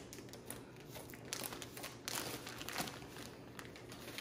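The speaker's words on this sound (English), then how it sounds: "I'm just taking this outer plastic off right now so I don't cut the bed." Outer plastic wrapping is cut and pulled off a new CordaRoy's king mattress, giving a steady run of close crinkling, rustling and tearing with a few sharper crackles, faint and with no talking.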